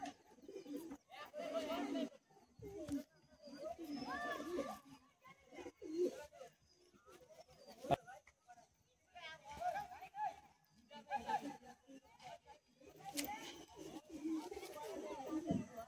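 Pigeons at a pigeon sale in Bagnan coo softly in repeated low, throaty phrases nearby, mixed with occasional flutters and clicks, while someone talks over much of it.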